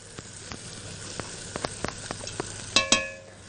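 Washed Egyptian rice being stirred into fried onion and garlic for Alexandrian koshari, with a soft background sizzle and sharp spoon scrapes and clicks against the pot, two louder knocks near the end.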